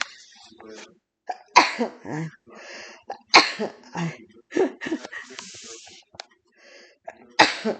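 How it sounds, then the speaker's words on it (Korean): During an evening Bible reading and prayer session, someone sneezes repeatedly, with coughs, throat clearing and breathy vocal noises in a close, uneven series of bursts and pauses. "책만 펴면 이렇게 재채기가."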